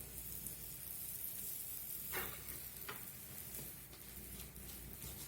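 English muffins cooking on a buttered griddle set around 300 degrees, giving off a steady, soft sizzle with a couple of faint scraping clicks, quiet and continuous with no talking.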